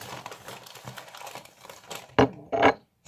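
Plastic bags crinkling and rustling as packaging is unwrapped, soft rustles building into two sharp, louder crackles near the end, with no talk.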